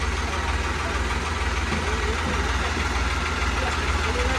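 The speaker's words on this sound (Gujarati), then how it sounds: "ટ્રેક્ટર આવી ગયું છે." A tractor engine idles steadily nearby at a farm home where a borewell is being drilled, a constant low rumble running throughout with faint voices in the background.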